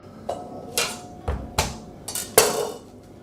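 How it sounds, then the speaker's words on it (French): Garlic cloves smashed for a coq au vin marinade: six sharp, irregular knocks close by, each a hard thud against a board, with quiet pauses in between and no talking. "L'ail, j'éclate. J'enlève la peau."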